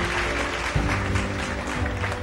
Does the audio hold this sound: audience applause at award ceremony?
yes